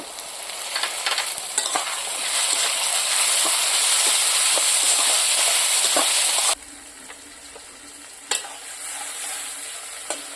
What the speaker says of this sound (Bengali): এখন আমি টমেটো কুচি দিয়ে দেব।